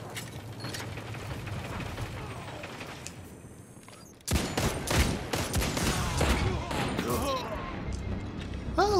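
Rapid bursts of hand cannon gunfire in Destiny 2 PvP crack out over a busy mix of game effects, louder and denser in the second half.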